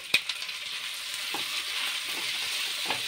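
Tomatoes and coriander fry in a pan for butter chicken, a soft, steady sizzle with a few sharp clicks of a utensil early on and faint stirring scrapes, with nobody speaking.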